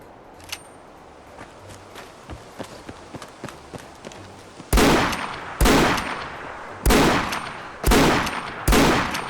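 Colt Single Action Army revolver in Fallout 4 fires five loud, sharp shots at about one-second intervals, each with a short ringing tail, after a stretch of soft clicks and footsteps.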